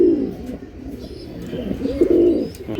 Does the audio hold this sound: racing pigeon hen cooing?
yes